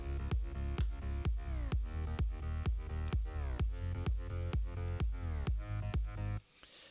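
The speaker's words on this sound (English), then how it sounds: "So my bass lines together with my kick sounds like this." A sidechained bassline pumps with a steady four-on-the-floor kick drum, the bass ducking after each punchy thump before the pattern cuts off abruptly near the end.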